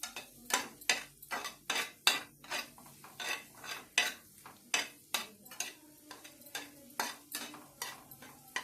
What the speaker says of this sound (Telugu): ఇలా తిప్పుకుంటూ ఉండండి మనం తిప్పుతాం